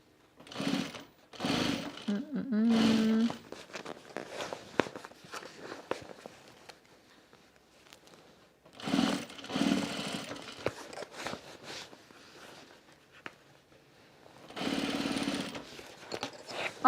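Sewing machine stitching a clear vinyl bag in several separate bursts of rapid buzzing, each a few seconds long, with quiet pauses and light handling between them.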